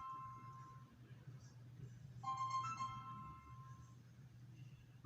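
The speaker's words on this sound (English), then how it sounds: "phone's ringing, but I'm gonna let it go" A mobile phone rings quietly in a room, its electronic tone coming in two short bursts over a low steady hum, with nobody speaking.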